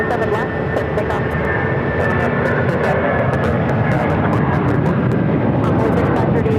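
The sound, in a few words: Delta jet airliner taking off from Phoenix runway 7 left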